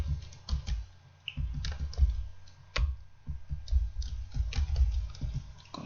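Typing on a computer keyboard while writing in a word processor, with irregular bursts of close, crisp key clicks and short pauses between words, heard alone with no talking.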